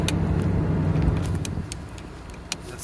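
Pickup truck driving down a road, a low continuous rumble of engine and tire noise with a few faint rattles on top, heard from close by.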